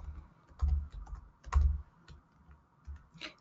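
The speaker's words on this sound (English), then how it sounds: "I will type it here." Quiet typing on a computer keyboard during a webinar, with a few clustered bursts of keystrokes separated by short pauses, close and alone.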